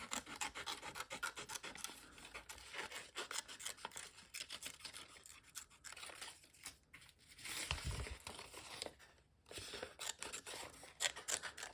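Paper being cut with scissors for a collage, working from the back of colored sheets, giving continuous rasping, crinkling snips at close range with brief pauses, no talking.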